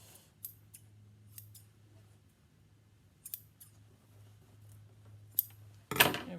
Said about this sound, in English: I'm going to cut off all this excess thread